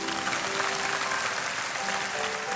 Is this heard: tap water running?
no